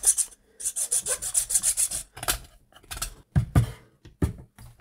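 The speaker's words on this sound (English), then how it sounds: "you do have to go through and trim all these little bits and make it look all neat and tidy" A file rasps back and forth across bits of resin on a Tyranid Scythed Hierodule model piece, with a run of rhythmic scraping strokes followed by a few sharper, separate scrapes and knocks, close up and with no talk.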